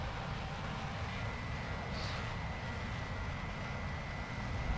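Steady low jet roar of an F-104 on afterburner in War Thunder, a continuous broadband rumble holding level throughout with a faint brief whistle near the middle.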